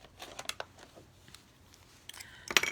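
Scissors snip around a stamped heartfelt image on Daffodil Delight cardstock: a handful of faint, crisp cuts and paper crinkles, irregularly spaced and close up, with a cluster of sharper snips near the end.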